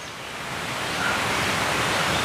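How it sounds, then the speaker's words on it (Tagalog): A mountain creek rushes steadily over a slippery rocky streambed, a dense, even broadband wash that grows slightly louder and stays close and continuous without any speech. "Sapa."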